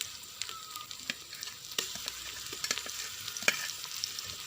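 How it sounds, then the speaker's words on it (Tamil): Ginger garlic paste sautéing with onions in a pan for jackfruit biryani, a steady soft sizzle with occasional sharp clicks and scrapes of stirring, close and fairly quiet, no talking. "இப்போ நம்ம இஞ்சி பூண்டு விழுத்து சேர்த்து வதக்கி விட்டுக்கலாம்"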